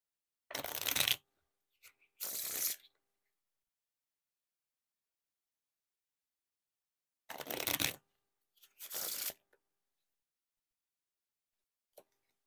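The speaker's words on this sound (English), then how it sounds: "Now, for a bridge shuffle or a riffle shuffle." Bicycle playing cards from a Pumpkin edition deck are riffled and bridged twice, each shuffle a short dense burst of crisp flutter followed by a soft cascade, loud and close with no talking.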